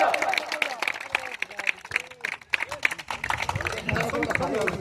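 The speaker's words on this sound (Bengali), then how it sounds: "সবাই মিলে জোরদার তালিয়া, জোরদার তালিয়া।" Crowd applauding on the field at a cricket tournament, scattered claps and cheering mixed with lively chatter and voices nearby, uneven in loudness throughout.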